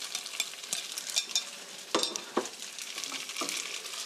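Spaghetti with scrambled eggs being stirred and tossed in a frying pan, with soft scraping and scattered clinks over a faint steady sizzle, close and alone.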